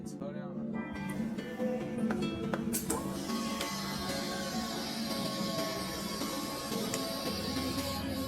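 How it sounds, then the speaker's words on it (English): Fuel pump on a rebuilt SR600 motorcycle priming before startup, a steady mechanical whirr with a faint rising and falling cycle, close and alone, with a few small clicks at the start. "Let the fuel pump prime back and forth twice first."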